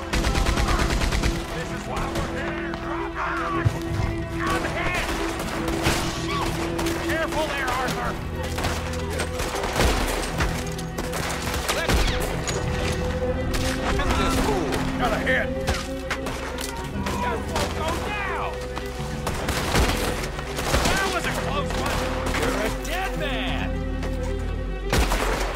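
Gunfire in Red Dead Redemption 2 crackles in repeated bursts and scattered shots through a dense, steady game soundscape with music and effects, while a person talks over it.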